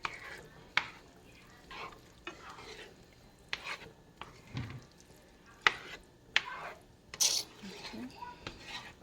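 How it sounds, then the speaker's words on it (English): A seasoned mixture with salsa and queso cheese is stirred in a pan, with irregular scraping and clinking strokes over a low sizzle. The sounds are close and come in uneven bursts. "I'm just going to mix everything in."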